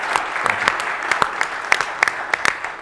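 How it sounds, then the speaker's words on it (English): Conference audience applause for an energy storage forum team, a moderate wash of clapping with distinct sharp individual claps standing out near the listener. "A round of applause for this team."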